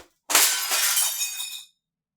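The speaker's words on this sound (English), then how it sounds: "A picture just fell off my wall." A framed picture drops from a wall and smashes, a single loud burst of breaking glass that rings and clatters for over a second before cutting off into silence.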